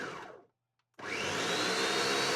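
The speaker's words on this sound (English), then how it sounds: "That's why we have this new blender." A blender blending salsa verde with cilantro: a short whir that winds down, a brief pause, then a loud high-pitched motor whine running steadily for about a second and a half before stopping.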